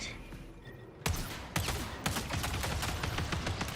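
Grenade exploding in the video game Palworld, with several sharp loud bursts in quick succession over background game noise.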